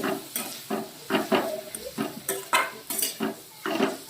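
Onion and tomato fry in oil in a wok while a spatula stirs them, producing a regular series of metallic scrapes and clinks, roughly two per second, over a faint sizzle, close and without talk.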